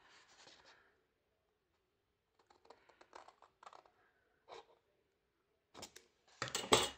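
Scissors snip through card in short, separate bursts while an Easter treat box is being shaped, close to the listener with quiet gaps between cuts and a louder final snip.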